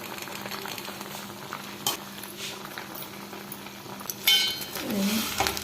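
Kerala-style crab thoran cooks in a covered pot, a quiet low simmer with a faint steady hum and soft bubbling, then a brief louder clatter and stir toward the end.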